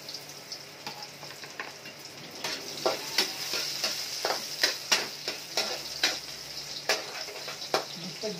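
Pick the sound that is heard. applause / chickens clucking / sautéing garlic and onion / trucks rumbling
sautéing garlic and onion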